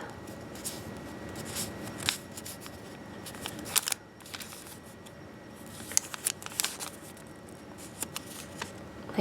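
Paper being folded into an origami box gives soft, intermittent crinkles and sharp creasing snaps, with quiet handling noise between the louder clicks.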